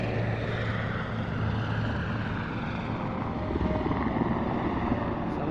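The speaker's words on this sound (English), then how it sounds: "I like how that helicopter kind of disappears down below" A continuous low rotor and engine drone of a helicopter in a video game (Hitman beta), steady and fairly loud throughout with no voices.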